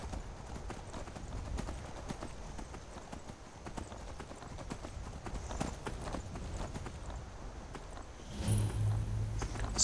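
Horse hooves in The Elder Scrolls V: Skyrim clip-clop steadily on a hard surface, close and continuous, with a brief rise in noise near the end.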